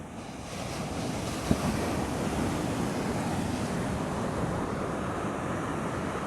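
Ocean waves break steadily on a sandy beach where sand crabs live, a constant broad roar of surf with wind noise over the microphone and no talking.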